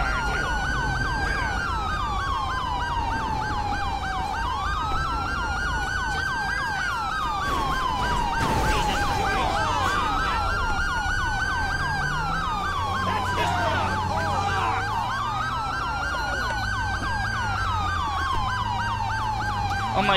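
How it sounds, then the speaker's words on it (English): Emergency vehicle sirens wail continuously in GTA V with the LSPDFR police mod, several rising and falling tones overlapping loudly over a low engine rumble, with no talk. "Someone's gotta turn off the sirens here."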